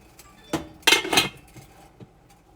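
Metal lid set back onto a cooking pot of lamb shank stew with zucchini, a few close clattering clinks in quick succession followed by quieter light taps.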